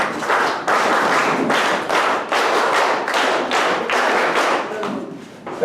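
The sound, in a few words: scouts clapping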